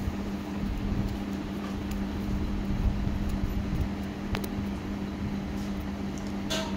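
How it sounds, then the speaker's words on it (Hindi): A sewing machine hums steadily while stitching the back part of a pair of pants, a continuous close mechanical drone with a faint tonal whine and no voices. "ऐसे ही बैक पार्ट पे सिलाई लगा लेंगे।"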